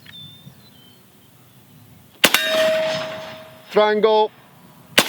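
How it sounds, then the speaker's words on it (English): AK rifle fired offhand at 25 yards during a quick zeroing session: two loud, sharp shots separated by a few seconds, the first trailing into a lingering ring, with a brief spoken word between them. "I'll just shoot it offhand"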